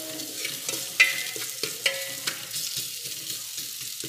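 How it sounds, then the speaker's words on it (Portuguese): Beef steak frying in a home kitchen pan, a quiet steady sizzle broken by sharp scraping clicks of a utensil stirring and turning the meat, no talking. "Tô sempre mexendo pra não dourar só de um lado e do outro"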